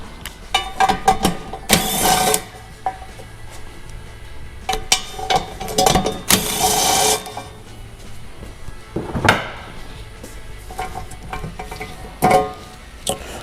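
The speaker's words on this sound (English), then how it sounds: "remove the 4 bolts from your stock bumper" Stock front bumper on a Polaris RZR Pro R having its four 15 mm bolts removed, giving short, loud mechanical bursts near 2 and 6.5 seconds amid scattered clicks and clanks of hardware in a garage.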